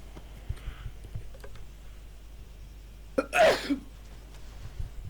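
A single sharp human sneeze bursts out loud and close in the middle, set against a quiet room with faint clicks and background hum.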